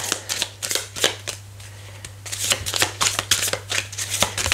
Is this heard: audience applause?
no